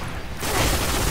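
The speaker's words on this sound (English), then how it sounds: "That bullshit ass rocket launcher killed me." A rocket launcher blast in the shooter game Destiny erupts suddenly as a loud, dense roar that fills the short moment and holds steady to the end.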